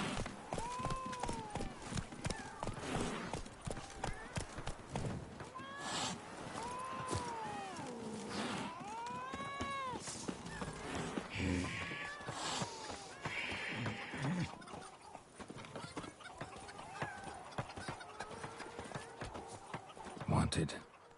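Roach, Geralt's horse in The Witcher 3 on PS5, trots with steady clip-clop hoofbeats beneath continuous music and a voice, with a brief whinny-like burst near the end.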